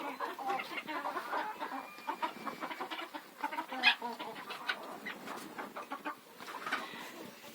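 Bantam chickens cluck and murmur close by in a rural yard, a busy overlapping chatter of short calls with one louder squawk in the middle.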